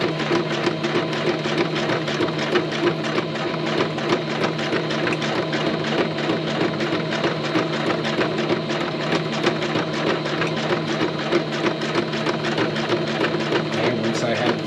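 A sewing machine runs steadily, stitching fabric with a fast, even mechanical chatter that stays loud and close for the whole stretch without pausing.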